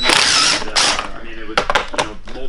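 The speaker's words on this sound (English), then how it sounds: "he got me a 3/8 impact, so we'll be able to tear this apart really fast now" A 3/8-inch impact wrench fires in short bursts of rapid hammering while being used to take apart a KLX110L big-bore pit bike, loud and close, with pauses between the bursts.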